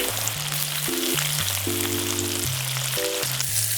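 Chicken legs for Korean-style fried chicken frying in hot oil, a steady close sizzle running throughout while music plays over it.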